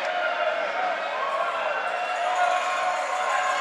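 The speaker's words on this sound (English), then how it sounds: "Tigers crowd's letting them hear it right now" A home crowd at a girls' high school basketball game roars in a steady, dense wash of cheering and noise that fills the whole stretch without letup.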